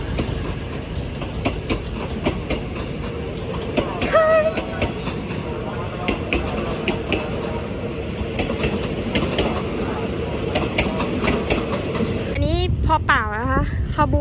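A train, number 167, rolls through Bang Sue Junction railway station, with rhythmic clickety-clack of wheels over rail joints, mechanical rumble and brief wheel squeal, while voices talk over it.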